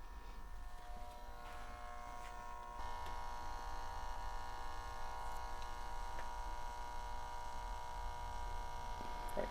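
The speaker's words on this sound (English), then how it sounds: "when I plug in an EMI meter and read it without the Pure Power plug-in, you can see I would be bathed in that dirty electricity" Steady electrical buzz and mains hum from dirty electricity on an EMI meter with the power filter removed, a continuous close drone that thickens slightly a few seconds in, with no voices.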